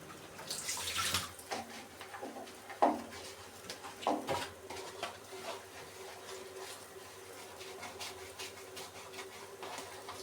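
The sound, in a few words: washing dishes with water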